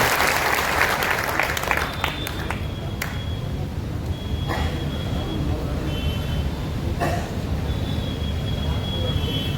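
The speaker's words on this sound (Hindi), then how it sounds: "एक बार जोरदार तालियों के साथ" Applause from a crowd at a youth club block coordinator election meeting in India, strong at first then thinning into scattered claps with a few sharp pings and background noise throughout.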